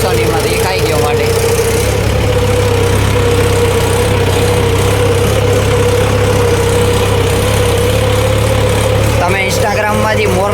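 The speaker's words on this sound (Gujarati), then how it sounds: "તમે ઇન્સ્ટાગ્રામમાં જે મોરલાના અને વિડીયો જોયા હતા ને એ આપણું ટ્રેક્ટર." A farm tractor idles steadily and fairly loud in a village yard, its low engine hum continuous throughout with brief rustling and movement noise near the end.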